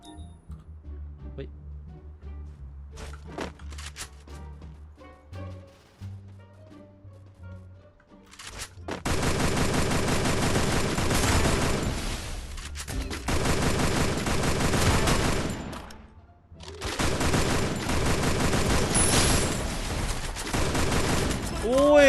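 Gunfire in the mobile battle royale game Free Fire, with scattered sparse shots at first, then long dense bursts of rapid automatic fire under a voice talking over the game.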